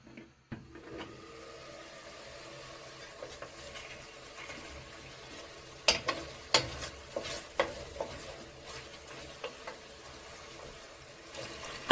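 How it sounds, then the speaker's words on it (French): Lamb meat browns in a pot with a quiet, steady sizzle; midway a run of sharp spoon scrapes and knocks against the pot rises above it as the meat is turned over. "on tourne la viande pour la faire revenir de l'autre côté"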